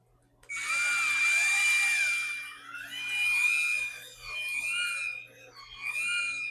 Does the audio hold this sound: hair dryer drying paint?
no